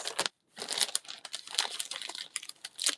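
A packet of Flower Garden Foils crinkles and rustles loudly up close, in a dense, continuous crackling with a brief pause near the start.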